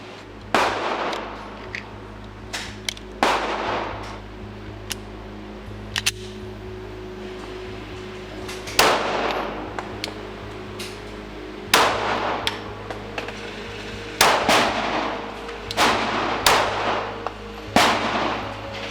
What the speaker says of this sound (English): we're gonna go to the range and actually do some live firing.